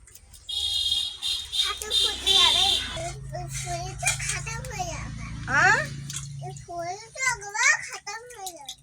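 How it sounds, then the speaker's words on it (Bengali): Rinse water poured off after washing fish, a splashing pour heard early on under a child's chatter and other voices in a home kitchen. "আর একবার এই ধুয়ে জলগুলো ফেলে দিচ্ছে"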